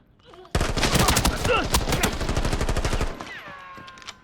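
Full-auto gunfire in Arena Breakout Infinite, one sustained rapid burst of close, loud shots lasting about two and a half seconds, preceded and followed by quieter game sounds.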